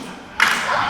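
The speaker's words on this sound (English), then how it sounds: "You can hear the crowd voicing their displeasure." A boxing crowd voicing displeasure, a sudden swell of loud booing and shouting that rises after a quiet moment and holds steady.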